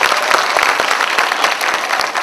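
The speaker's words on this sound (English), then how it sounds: "Once again, a big round of applause," Audience applause at a state film festival award ceremony in Manipur, a dense, steady wash of many hands clapping throughout, with scattered sharper claps standing out.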